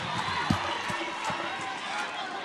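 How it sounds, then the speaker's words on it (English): Crowd roar from spectators at a secondary school football match between San Juan North Secondary and St. Benedict's College, a broad steady wash of cheering heard at a distance with a few soft thuds in it. "And listen to the crowd."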